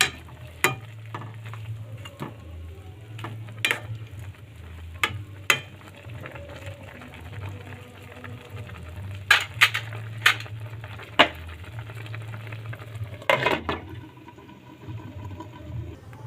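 Chicken adobo with potatoes is stirred in a pan, giving a steady low sizzle broken by repeated scraping and clinking of a utensil against the pan, close and fairly quiet, with no talking.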